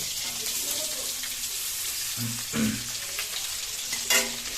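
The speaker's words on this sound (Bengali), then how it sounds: "আমরা ডিমটাকে খুব সুন্দর করে আগে ফ্রাই করে নিই" Eggs frying in a pan for a spicy egg curry with eggplant, a steady broad sizzle running throughout with a couple of louder stirring bumps near the middle and end, no talking.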